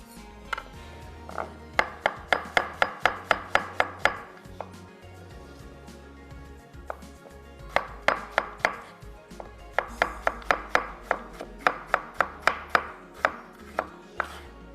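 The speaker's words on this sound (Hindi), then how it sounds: "कर लेते हैं प्याज को स्लाइस।" Onions sliced with a knife on a cutting board, quick rhythmic runs of crisp chopping taps up close, several bursts separated by short pauses.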